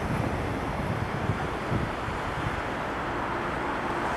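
Wind blowing over a sea with small waves on the coast at Lazarevskoye in mid-February, a steady broadband rush with gentle surf and microphone buffeting, continuous and fairly loud with no talk.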